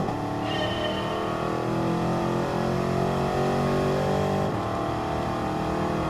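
De Tomaso Pantera with a Ford engine in a racing video game, its engine droning steadily and loudly throughout with slight shifts in pitch, with no talk.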